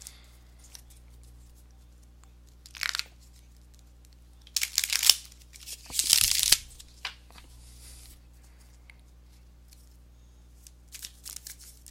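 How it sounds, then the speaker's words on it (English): Several short bursts of papery tarot card shuffling, crisp and close, separated by quiet pauses, with the longest flurries in the middle. "let me go ahead and give these cards a shuffle"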